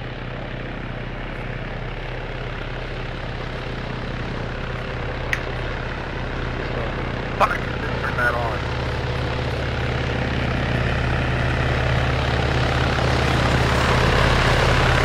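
A steady low helicopter drone in a video game hums throughout and grows slightly louder, with a couple of sharp clicks partway through.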